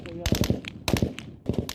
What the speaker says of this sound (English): Steady gunfire.